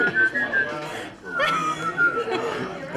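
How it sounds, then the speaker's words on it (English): A person whistles a melody with his tongue, a short, thin tune of a few bright notes, close by, with chuckles, laughter and chatter from people nearby mixed in. "we found one who can actually whistle with his tongue."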